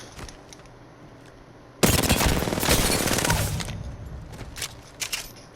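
Sustained automatic gunfire from the Apex Legends video game, played without a strike pack, erupts after a quieter start as a loud rapid burst lasting a couple of seconds, then trails off into scattered shots.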